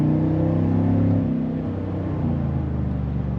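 A straight-piped Chevrolet Silverado 1500 LTZ with the center muffler removed gives a loud, raspy exhaust rev that swells and then eases back toward a deep rumbling idle, all close by.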